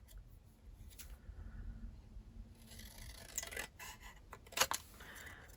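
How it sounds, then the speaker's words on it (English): Long shears trimming a paper Christmas sentiment for a handmade card, heard as quiet, close snips and a few sharp paper cuts, with faint rustling between. "just trimming that sentiment with our long shears"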